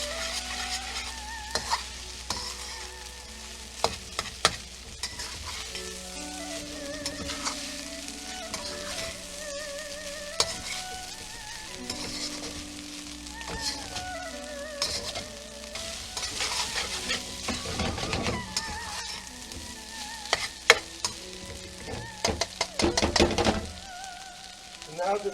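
Chicken fried rice sizzles in a pan with melting herb butter, a steady frying crackle broken by frequent scraping and clinks of a utensil stirring, with faint background music underneath.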